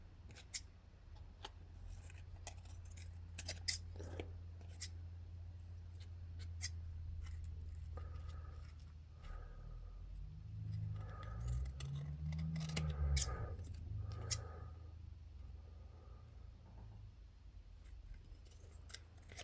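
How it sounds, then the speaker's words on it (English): Scissors snip bits off an aged playing card, a series of short crisp cuts spread through a quiet room, close and fairly soft, with a few faint handling rustles between them. "Now we just cut these bits off."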